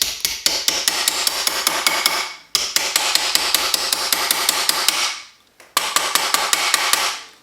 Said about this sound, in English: you're hammering it down into it to make it curve over more